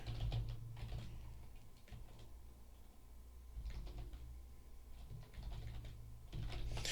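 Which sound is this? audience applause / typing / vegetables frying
typing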